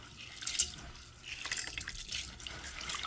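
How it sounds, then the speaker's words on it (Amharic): Wheat grains being washed in water for Ethiopian gulban: soft, steady sloshing, trickling and dripping, close and fairly quiet, with no talking. "ስንዴውን ከለቀምኩ በኋላ እንደዚህ በደንብ አጥበዋለሁኝ"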